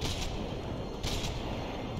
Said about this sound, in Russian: с такой-то винтовки чисто, чисто тупо по одному выстрелу